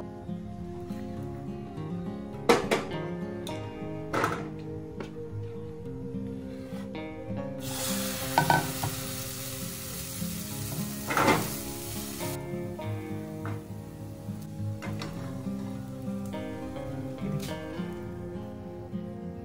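Bengali pitha for Poush Sankranti, patishapta batter, frying in a new frying pan gives a soft, continuous sizzle with a few sharp clinks and scrapes, and a brief louder hiss midway.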